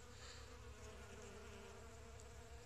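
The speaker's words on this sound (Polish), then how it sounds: "Ale pszczół na hiacyntach." A steady, continuous hum of many bees buzzing close by on hyacinth flowers at an apiary, a dense droning swarm with no gaps and no voices.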